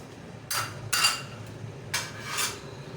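A spoon stirring chicken hot and sour soup in a pot, a few separate scraping, clinking strokes against the metal with pauses between, fairly quiet and close.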